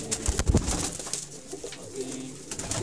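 Teddy golden Rampuri breeder pigeons coo softly in a loft, several low throaty calls overlapping close by, with faint rustling and no talk.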